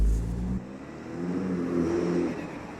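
A Mini JCW with a 2-litre B48 engine, crash-damaged, driving: a steady in-cabin engine hum that swells slightly as it pulls, with a brief louder thump at the start.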